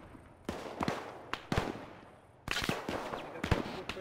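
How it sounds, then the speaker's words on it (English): Gunfire comes from a factory to the north during a combat engagement near a compound: sharp cracks arrive in scattered bursts, some single and some in quick clusters, at moderate distance. "Shots coming from the factory to the north."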